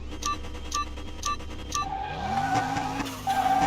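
Honda Civic launching down a quarter-mile drag strip in Car Mechanic Simulator 21, a few short beeps of a countdown followed by a rising engine note and tire squeal as the car accelerates.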